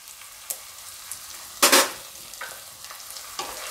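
Spices for paneer bhurji being stirred in hot oil, a quiet sizzle with scattered spoon scrapes and one louder, longer scrape in the middle, close by.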